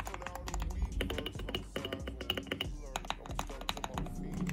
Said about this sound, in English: And we got the Lube, the GK61 with yellow switches.